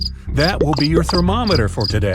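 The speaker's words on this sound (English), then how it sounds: "Have you heard the crickets chirp?" Crickets chirp in steady, evenly spaced high pulses that keep going beneath a person speaking clearly up close.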